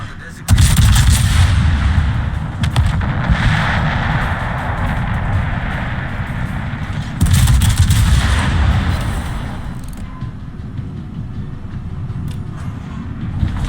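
Rapid, heavy cannon fire from warships firing broadsides in the naval game Azur Lane, with dense rolling booms that swell again around the middle, loud and continuous with a faint voice beneath.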